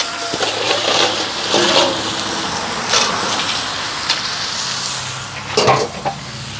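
Crab cooking in curry in a pot over an outdoor wood fire, giving a steady close sizzle and bubbling crackle with a few louder bursts and no talking.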